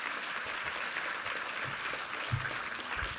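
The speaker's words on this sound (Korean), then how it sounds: "우리 하나님께 감사와 영광의 박수 올려드리겠습니다." A church congregation applauds after a sermon reading, a soft, distant, even clapping that carries steadily throughout with a few low thumps and no voices over it.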